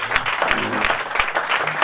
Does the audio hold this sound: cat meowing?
no